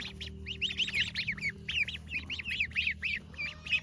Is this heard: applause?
no